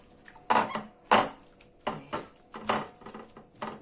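Chicken pieces being stirred in a pot with a marinade of onion and rosemary, heard as a series of close, irregular wooden and metal scrapes and knocks with short pauses between them.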